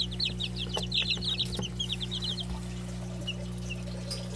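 Chicks give a quick run of soft, high peeping chirps close by over a steady low hum, then go mostly quiet.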